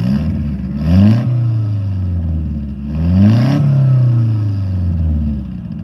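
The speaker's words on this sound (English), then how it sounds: "Live two-step, it's definitely gonna blow out the microphone and not sound very good." A Nissan 240SX engine revs hard twice on two-step launch control, each climb ending in sharp popping crackles, with a rough lumpy idle rumbling in between, loud and close.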